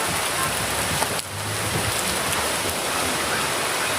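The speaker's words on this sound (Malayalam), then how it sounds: "heavy rain പെയ്തിട്ടോ" Heavy rain pours steadily outdoors, a dense, loud hiss of drops hitting surfaces with a short dip in the middle before the downpour continues.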